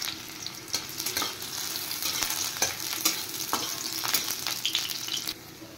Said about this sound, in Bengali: এবার আমি পেঁয়াজটা ফ্রাই করে নেব।